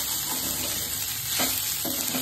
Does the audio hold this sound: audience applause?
no